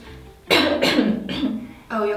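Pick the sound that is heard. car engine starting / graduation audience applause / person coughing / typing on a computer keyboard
person coughing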